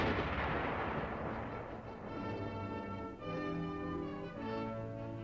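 A heavy weapon on an armored vehicle fires direct fire in a Cold War tank tactics setting, a single deep booming blast followed by a long rumbling roar that stays loud, with a low tonal hum underneath.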